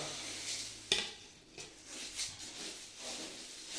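Puffed rice bhadang being tossed and stirred with spice masala in a pan for Kolhapuri spicy garlic murmura, with a sharp scrape or clink of a utensil followed by soft, intermittent rustling and scraping.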